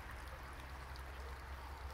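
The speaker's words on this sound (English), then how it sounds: "I am in the middle of the creek here." A shallow creek with a gravel bar flows in a steady, broadband rush of water, continuous and fairly close, with no voices.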